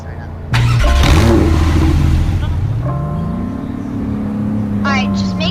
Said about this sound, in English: Colton has a Porsche as well. And then listen to the startup though